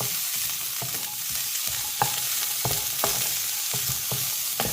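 Grated coconut sautéed in a pan for a thick kulambu, a dry frying sizzle punctuated by regular scraping strokes of a spatula, close and steady with no voices.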